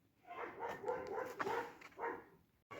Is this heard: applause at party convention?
no